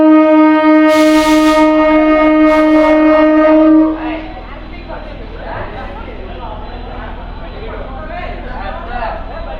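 MEMU passenger train 67284 pulling out of platform 1 at Tanuku railway station, a loud sustained horn blast for about four seconds, then steady rumbling motion with clatter and voices chatting nearby.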